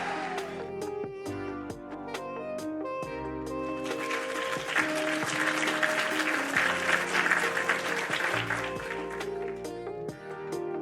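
A crowd cheers and applauds with sustained clapping and whoops, loud and close, rising to a dense peak in the middle before easing off.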